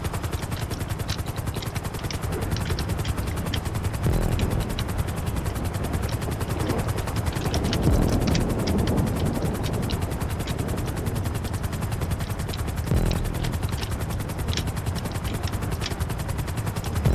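Helicopter rotor noise from the video game GTA Online, a steady loud chop running throughout, mixed with bursts of gunfire and other game sounds, no talking.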